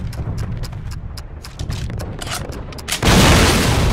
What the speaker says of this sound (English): This cannon's about to go boom!